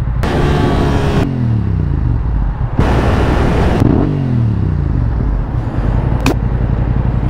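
A motorcycle engine revs hard in two loud, close bursts, each followed by a falling idle as the revs drop away, with a brief metallic clatter near the end.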